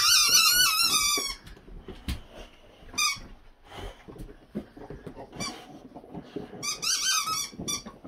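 New squeaky dog toys squeaked in bursts around a Boxer at home: a long shrill run of squeaks at the start, a short one near three seconds and another cluster near the end, with scuffling and movement noise between.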